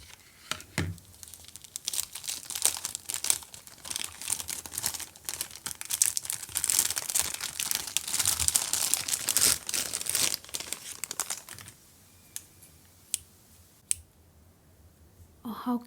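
Crinkly plastic packaging around art supplies is opened and unwrapped at close range, giving dense rustling and crackling with scattered clicks and snaps that thin out into quieter handling near the end.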